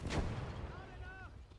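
An infantry gun fires once in the WWII strategy game Gates of Hell: Ostfront, a heavy booming shot at the start whose rumble fades over the following second.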